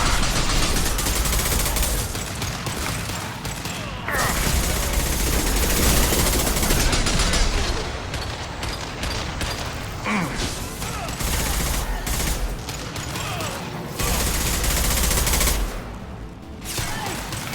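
Sustained firefight in Mass Effect 2, with dense rapid gunfire and bursts rolling almost continuously at loud, close range, dipping briefly before resuming; voices speak intermittently under the shooting.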